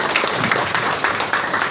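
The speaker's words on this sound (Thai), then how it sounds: "ขอเสียงปรบมือดังๆให้กับทุกคนครับผม" A crowd claps in a dense, continuous patter of applause, fairly loud and close, lasting under two seconds.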